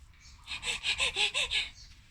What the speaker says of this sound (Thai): เสียงหมาหอบ เสียงหมาหอบ